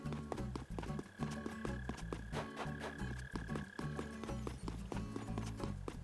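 Mole crickets chirping underground on an island in Animal Crossing: New Horizons, a rhythmic low burring trill repeating steadily over soft game background sounds.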